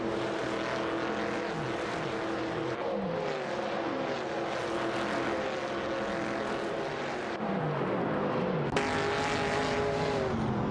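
Several 1970s-style stock cars, an AMC Matador and Chevrolet Monte Carlos, race together in a video game, engines droning and rising and falling in pitch as they pass through shifts, loud and continuous with no talking.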